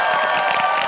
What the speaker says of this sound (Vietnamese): Quý vị cho nhạc trưởng chúng ta một tràng pháo tay được không ạ?